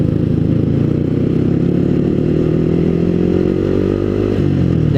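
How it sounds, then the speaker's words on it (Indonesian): Automatic scooter motorcycles on a street at night in Bintaro, some modified, make a loud, continuous droning engine hum with rising revs and no pauses. "Di Bintaro itu banyak sekali motor-motor Matic bray ya."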